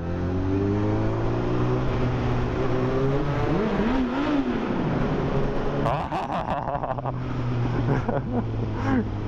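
Yamaha R1 48 PS motorcycle engine droning loud and close while riding through a tunnel, with rising and falling revs echoing off the walls and a voice speaking over it.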